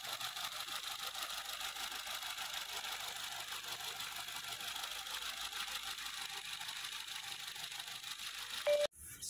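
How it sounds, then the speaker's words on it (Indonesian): Quiet, steady idle of a 2020 Wuling Almaz car engine with light injector ticking: an even, low hum without revving, ending in a brief bump and cutoff. "mesin lebih hening, dan sangat powerful. Hanya terdengar suara injektor saja."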